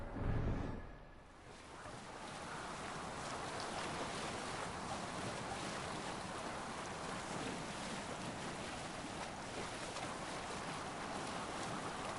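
A longship sails on open sea in the video game Assassin's Creed Valhalla. Waves wash and wind rushes in a steady, full roar that carries on throughout, after a brief louder surge at the start.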